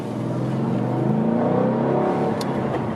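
A 2013 Ford Mustang Boss 302 with a 5.0-liter engine and upgraded exhaust, driving with a steady deep throaty burble that swells slightly as it pulls, close and loud throughout.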